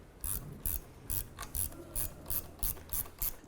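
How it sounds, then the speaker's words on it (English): A ratchet tightens the rear strut nut on a 2008-2012 Honda Accord, about ten evenly spaced clicking strokes in a steady back-and-forth rhythm, close and fairly quiet. "Let's go ahead and tighten this down."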